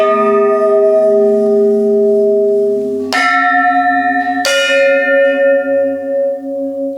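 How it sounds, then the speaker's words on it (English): Tubular bells made from pipes found in a garden ring out in sustained, shimmering tones, with two fresh strikes partway through that bloom and slowly decay, heard alone and fairly loud. "this instrument, which has been made out of the pipes we found in the garden, is tubular bells"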